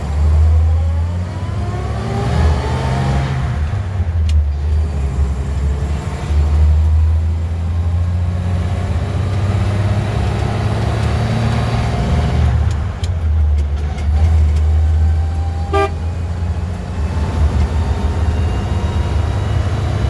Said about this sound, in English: you're going to listen to the sound of what this Jeep would have sounded like 70 years ago when it left the showroom